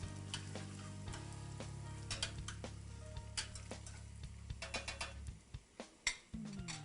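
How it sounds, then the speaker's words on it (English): Ginger sautés over medium-high heat in a pan, crackling with a continuous sizzle broken by clicks and scrapes of stirring, close and fairly quiet. "I'm going to saute this over medium-high, stirring it really frequently for about 30 to 60 seconds"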